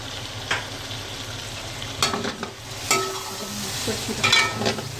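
Tomato paste being stirred into chicken Afghani karahi in a hot pan, a steady close sizzle of frying with a few sharper scraping stirs, no voices.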